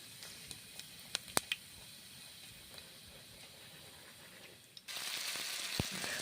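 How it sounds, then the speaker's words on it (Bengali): Whole cumin seeds dropping into hot mustard oil: a few faint clicks and taps in near silence, then a sudden loud, steady hissing sizzle that continues to the end. "গোটা জিরে দিচ্ছি,"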